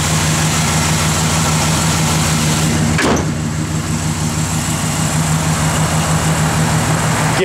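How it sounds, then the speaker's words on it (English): A 1970 Chevrolet Malibu engine idles with a loud, steady low rumble and even pulse close by, unbroken throughout apart from a brief sweeping sound partway through. "car just runs and drives as sweet as can be"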